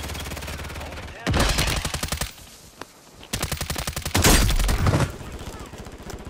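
Loud bursts of automatic gunfire in a video game rattle in rapid strings, with two long volleys separated by a quieter gap holding a single sharp shot.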